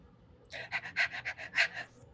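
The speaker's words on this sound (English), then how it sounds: "I'm talking about your heavy breathing right now" A person breathes heavily in a quick run of about eight short, breathy pants, evenly spaced and close to the microphone, in an otherwise quiet room.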